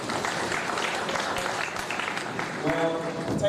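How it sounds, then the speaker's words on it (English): Audience applause following a leadership talk, a brief burst of clapping from a room of listeners, with voices coming in toward the end. "Another round of applause for his."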